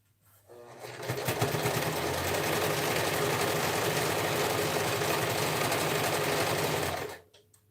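A sewing machine runs steadily for about six seconds, stitching around cording on a fabric dress form cover, with a fast, even mechanical chatter that starts and stops cleanly.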